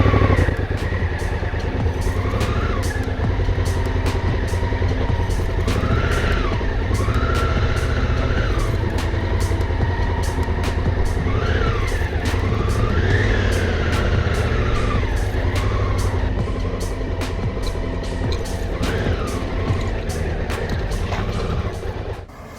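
Diego's truck grinds along a rough Patagonian backroad, its engine droning loud and close throughout with repeated revving swells, while sharp knocks and rattles from the bumpy ground punctuate the steady roar.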